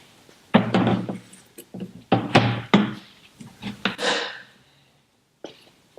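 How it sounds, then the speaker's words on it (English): A motorcycle top box is slid onto its front hooks and pressed down into its latch, giving several firm knocks and thuds before a single decisive click, up close and with no talking. "you can hear it definitely click in quite decisively"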